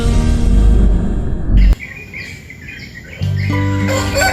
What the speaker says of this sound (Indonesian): sekumpulan burung yang berkicau